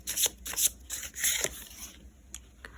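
Tarot cards are shuffled in short, crisp riffling bursts, several quick rounds close by with brief pauses between them and no voices.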